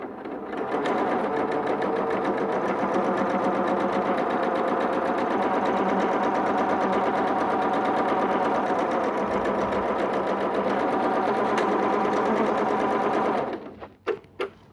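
A sewing machine stitches pintucks with a twin needle, running steadily and loudly for about thirteen seconds before stopping with a couple of short final bursts.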